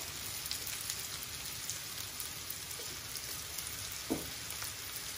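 Sautéed potatoes and onions crackle in a pan, a soft, even sizzle like light rain, with a single brief tap partway through and no talking.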